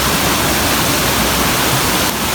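A hidden waterfall at Rohini near Kurseong roars as a loud, dense, unbroken wash of falling water heard up close, with no voices.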